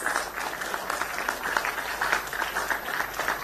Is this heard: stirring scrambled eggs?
no